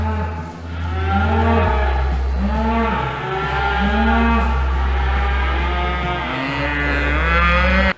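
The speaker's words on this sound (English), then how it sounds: "I don't think I want to go into the woods with a bunch of cows, neck and neck." A bunch of cows bellow near a forest road in the woods, with several long, loud, close moos overlapping one another over a steady low rumble.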